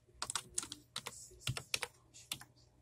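Fingers tap on a computer keyboard in a quiet room, a short irregular burst of close, crisp key clicks heard alone.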